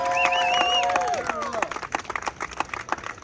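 A crowd at a Santa Monica Pier street show claps and cheers, a loud burst of applause with scattered shouts that thins into patchy clapping after a voice briefly calls out over it.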